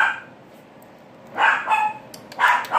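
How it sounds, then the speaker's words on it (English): A young pet puppy, a little dog about a year old, gives a few short yips and barks indoors, close and loud after a quiet stretch, in two brief bursts. "It's our little dog."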